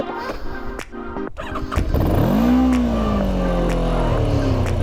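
A motorcycle engine cranks and catches on a mountain road trip, then settles into a steady, loud, close idle with a rising then easing pitch.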